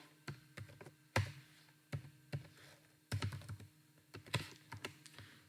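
Close, quiet keystrokes on a computer keyboard while code is typed, irregular taps in short clusters with brief pauses, no one speaking.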